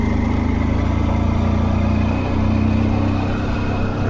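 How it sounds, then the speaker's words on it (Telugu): A motorcycle engine labouring up a hill in second gear on a hillside road, a steady close drone that stays loud throughout. "ఇంజిన్ సౌండ్ చూశారు కదా ఎలాగ వస్తుందో."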